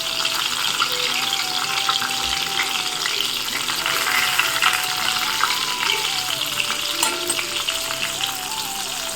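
Cabbage pakoras coated in gram-flour batter fry in oil in a pan, giving a steady, close, crackling sizzle that continues throughout.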